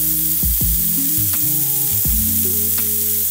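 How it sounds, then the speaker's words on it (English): Broccoli sautéing in a pan on a griddle fills the space with a loud, continuous close-up sizzle, with a tonal hum and scraping shifts running beneath it and no voices. "We got our broccoli just sauteing in our pan."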